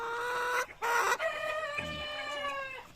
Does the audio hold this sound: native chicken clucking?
yes